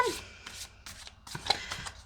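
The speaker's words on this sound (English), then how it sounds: "Now I'm going to just shuffle these beauties up again." A botanical tarot card deck being shuffled by hand, giving soft riffling bursts of papery rustle in quick, uneven pulses, close and fairly quiet, with no talking over it.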